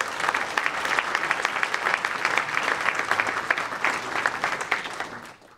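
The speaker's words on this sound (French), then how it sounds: "Oui, on peut l'applaudir" A crowd at a town New Year's greetings ceremony applauds the sound and light technician, sustained close clapping from many hands that tapers off at the end.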